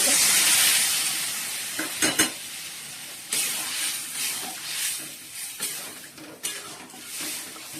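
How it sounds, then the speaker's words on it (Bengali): Boiled lentils added to a pan of spices and stirred, starting with a loud hiss and sizzle that settles into steady frying, broken by a few close scrapes and knocks of the spoon against the pan. "এবার ডালটা দিয়ে দেবো, সেদ্ধ করা ডাল"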